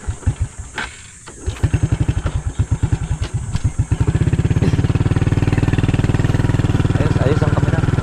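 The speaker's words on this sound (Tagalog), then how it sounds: "Ang hirap naman susian itong motor na to." A motorcycle is cranked with its key through a series of rapid chugging turnover pulses and stutters before catching, then settles into a steady, close idle with a fast, even putter. Brief talk is heard near the start.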